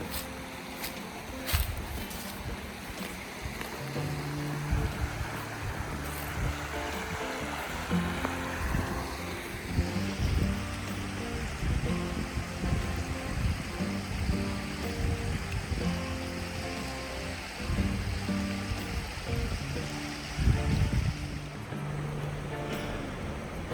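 Steady rushing of a flowing river at a national forest campsite fills the scene, constant and moderately loud, with a low rumble underneath and no voices.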